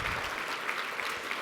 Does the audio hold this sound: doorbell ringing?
no